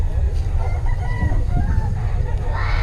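A rooster crows amid a busy, noisy outdoor setting with other fowl clucking, the call partly buried under steady low rumble and nearby chatter.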